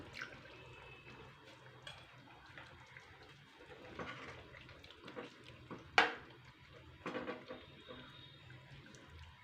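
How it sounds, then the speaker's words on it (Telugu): Water is poured into a pan of chicken curry gravy, a faint liquid splash and trickle with a few sharper drips and clinks, quiet and close. "ఇప్పుడు ఇందులో కొంచెం వాటర్ వద్దామండి"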